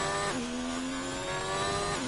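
A racing-game car engine screams at high revs on a Melbourne circuit, holding a strained whine that dips sharply once, then climbs and holds again, loud and continuous.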